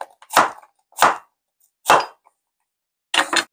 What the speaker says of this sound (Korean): 이제 애호박 요거 한 3분의 1 요 정도 자르시고요